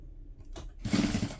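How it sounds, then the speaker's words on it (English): A sewing machine stitches a tote bag seam with a 3/8 inch allowance, giving a short mechanical whir and a brief pause, then a louder steady run of close, rapid needle stitching. "now I'm going to sew this together using a 3/8 inch seam allowance"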